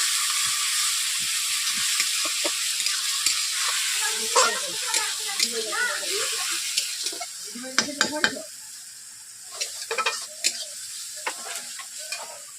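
Tomato, onion, ginger and garlic fry with a little salt in a pan for a village-style egg curry, a steady close sizzle broken by scraping stirs and sharp clinks of the spoon against the pan.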